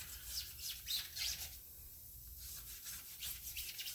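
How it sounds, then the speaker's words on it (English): Scotch-Brite pad scuffing a car body panel during paint prep: quiet, steady rubbing strokes in a soft continuous rasp that dips briefly before resuming. "Basically, I'm going to wrap the Scotchbrite just on the edge."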